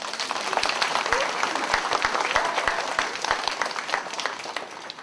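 Students and families at a first-grade school assembly clap to welcome a presenter, a close, dense burst of hand claps with sharp individual hits standing out, sustained and unbroken with no talking.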